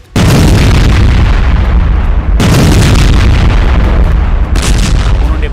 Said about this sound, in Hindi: उन्होंने बंकर बस्टर के धमाके किए